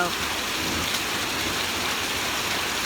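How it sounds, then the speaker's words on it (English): Hail falls steadily during a storm as a dense, even hiss of pelting ice on surfaces, continuous and loud without pause. "They did say we can expect hail"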